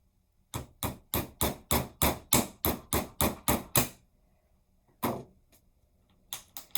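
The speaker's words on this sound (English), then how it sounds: "you're going to start putting holes into your can" A steady run of about a dozen evenly spaced hammer blows driving a nail into a tin can to punch holes, followed by a pause and a few more strikes, close and loud.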